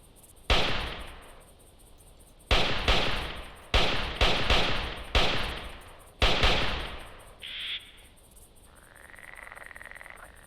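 Pump-action SPAS shotgun blasts in Carnivores Triassic, six loud, sharp reports spaced over several seconds with short decaying tails, followed by quieter in-game creature and ambient sounds.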